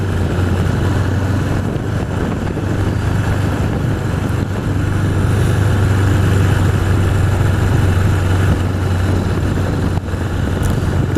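A 1981 Honda CB750 Custom motorcycle engine drones steadily while riding along back roads in East Hampton, NY, a close, loud, continuous low hum mixed with rushing wind noise and no talking.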